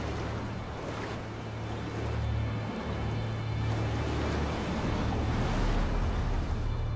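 Ocean waves and a fast-moving tide along the coast at Shimonoseki: a steady, broad wash of surf with rumbling wind noise, continuous and fairly loud, with no talking.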